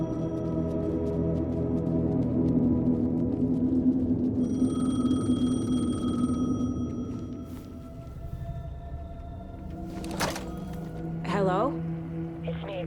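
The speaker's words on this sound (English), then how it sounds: "The payphone was ringing." A payphone rings in the Alan Wake 2 game world, a thin, repeated electronic ring over a low ambient drone, followed by scattered sharp effects.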